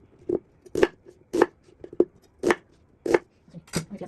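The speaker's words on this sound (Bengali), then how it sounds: "আমি তো এটা পেঁয়াজগুলো কাটি দিব।" Onions being chopped on a board for an Italian salad, about eight crisp, evenly spaced knife strikes, close and clear, with no talking over them.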